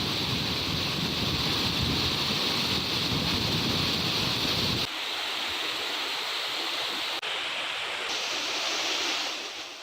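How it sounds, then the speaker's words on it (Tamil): A flooded waterfall at Chinnasuruli in Theni roars with rushing water, a loud continuous wash that stays dense throughout, with a sudden shift in tone partway through. "சின்னசுருளியில் தொடர்ந்து 6வது நாளாக நீடிக்கும் வெள்ளப்பெருக்கால் அருவி உருகுலைந்து காணப்படுகிறது"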